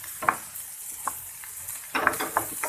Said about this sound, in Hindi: इसको थोड़ी देर हम भूनेंगे।